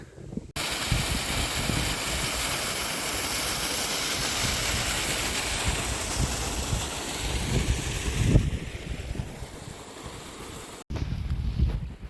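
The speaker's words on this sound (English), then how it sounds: "it's really windy tonight." Steady, loud wind buffeting a microphone at a night camp in the Brecon Beacons, a continuous broadband roar with gusts, cutting out briefly near the end before returning.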